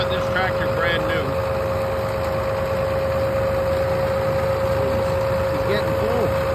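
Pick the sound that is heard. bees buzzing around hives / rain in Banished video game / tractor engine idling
tractor engine idling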